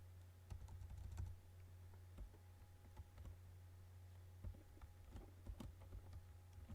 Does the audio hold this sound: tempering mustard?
no